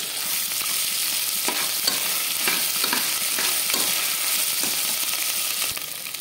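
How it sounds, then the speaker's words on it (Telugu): Ginger garlic paste fries in a pan for palak rice, giving a steady, loud sizzle with soft scraping stir strokes throughout and no voices. "దీనిలో కొద్దిగా అల్లం వెల్లుల్లి పేస్ట్ అయితే యాడ్ చేసుకొని పచ్చివాసన పోయే వరకు బాగా ఫ్రై చేసుకోవాలి."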